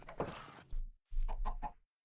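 Chickens cluck in a farming and engineering video game, giving a short run of quick, close clucks in two bursts separated by a brief silence.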